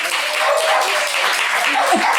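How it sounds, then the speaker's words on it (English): Brief, dense clapping from a group of guests at a Christmas office party, with voices and chatter mixed through it. "I think everybody should be clapping"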